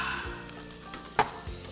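Pepper chicken masala sautés in a pan with a quiet, steady sizzle. A couple of sharper scrapes or knocks of a stirring utensil sound over a low background hum.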